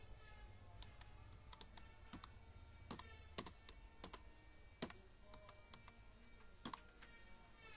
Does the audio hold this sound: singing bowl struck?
no